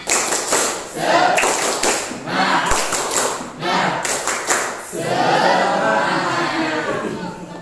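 A classroom group in an Islamic-university teaching session performs a rhythmic cheer-clap, bursts of claps in patterned beats with pauses between, close and fairly loud, with voices mixed in.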